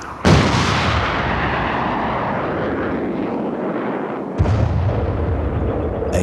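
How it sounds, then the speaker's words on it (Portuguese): Artillery bombardment in Angolan colonial war footage, a loud sustained roar of blasts and rumble that runs almost throughout, with a fresh heavy impact near the end and no voices. "entrou agora a artilharia a abrir caminho para companhias de caçadores"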